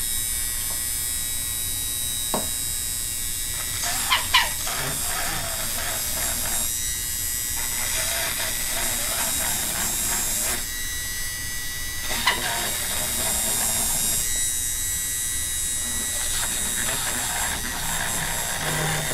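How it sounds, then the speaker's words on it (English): Rotary tool grinding out and enlarging holes in a 3D printed plastic part, a steady high electric whine with bursts of harsher grinding as it bites, with light clicks and some talking. "now I'm going to start cleaning out those holes, making them bigger, grinding them out"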